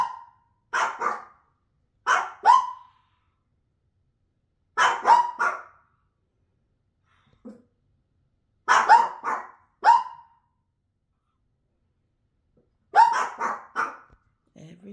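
Two Pekingese dogs barking, short clusters of two or three sharp yaps repeated at intervals with silent gaps between, close and loud.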